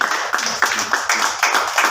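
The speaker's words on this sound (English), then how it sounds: "why don't you clap again?" A church congregation at a Sunday service claps together in a steady rhythm, about three beats a second, close and fairly loud, the claps even and regular from start to finish.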